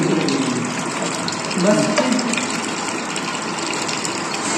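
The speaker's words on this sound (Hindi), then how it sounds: "आपकी मोटर का जो पानी है वो डायरेक्ट ऑन ऑफ होता रहेगा लगातार।" Electric water pump motor filling a water tank, a steady gushing rush of water with a constant mechanical hum, close and loud, with a brief spoken word over it.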